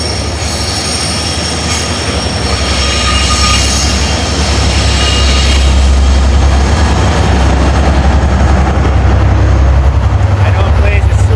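A train roars past close by, loud and continuous, wheels squealing and rumbling along the rails for the whole stretch, with faint speech buried underneath.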